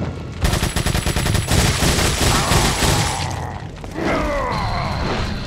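Rapid gunfire and machine-gun bursts in Resident Evil 4, loud and continuous for about three seconds, followed by clanking mechanical impacts and debris.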